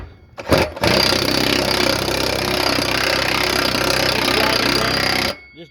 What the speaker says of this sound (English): I'll hold it with one hand and I'll just take my impact wrench.